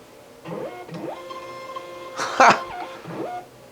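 Short bursts of mechanical whirring and feeding, with a sharper louder burst midway, as a Vevor mailing label printer runs off a label.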